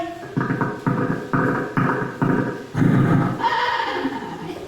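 A human voice imitates a horse neighing in a rapid series of five or six loud, bleating bursts followed by a longer, wavering whinny, close and clear.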